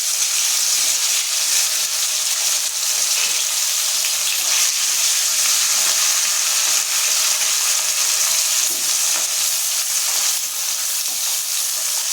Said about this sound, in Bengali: এবার কড়াইয়ে মাছ দিয়ে দেবো